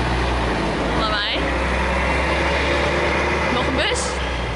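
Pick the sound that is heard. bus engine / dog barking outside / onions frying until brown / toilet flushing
bus engine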